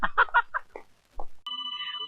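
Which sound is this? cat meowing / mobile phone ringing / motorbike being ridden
mobile phone ringing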